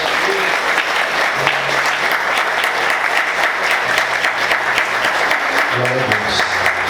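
A church congregation claps during a worship service. The applause is loud, dense and sustained throughout, with a few faint voices mixed in.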